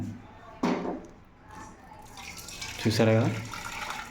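Water from boiled fish is poured into a bowl, a soft, splashing stream that swells near the end while a person talks over it at close range.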